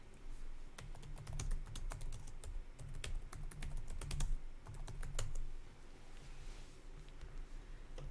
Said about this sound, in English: I just took over the keyboard